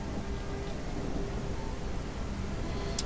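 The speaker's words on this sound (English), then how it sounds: "See, it's always raining. Why is it always raining?" Steady rain in the medieval city-building game Bastide gives a constant, even wash of noise, with no talking over it.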